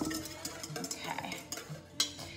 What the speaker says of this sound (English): Mixing up the egg yolk with the mustard and the garlic and the Worcestershire.